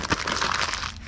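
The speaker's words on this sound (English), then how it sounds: "Grab our magazine, crumple it," Magazine paper crumpled by hand, a dense crackling crinkle that starts with a sharp crunch and continues steadily, close and loud, with no voices.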